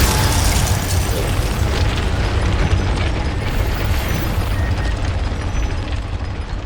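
A Confringo explosion spell cast in Hogwarts Legacy, heard as a loud, continuous crackling blast and rumble that fills the whole moment, with no talking.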